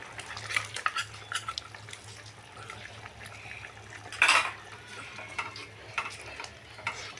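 Gram flour being stirred into a simmering curry pot, with light spoon scrapes and clinks against the pot and one louder clatter midway, over a quiet bubbling background, close and fairly soft.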